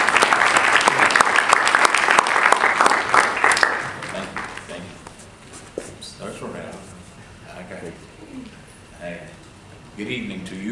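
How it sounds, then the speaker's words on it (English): Dense applause from a lecture audience swells for several seconds as a speaker approaches the pulpit, then tapers to scattered claps and shuffling, with voices and room noise continuing beneath. "I want to just let you give him a round of applause as he approaches this pulpit"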